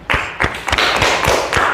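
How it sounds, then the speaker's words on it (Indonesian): A few people clap sparsely after a classroom group presentation, with distinct separate hand claps and thuds in an uneven rhythm, close and fairly loud, with no voices over them. "Oke, kita berikan tepuk tangan."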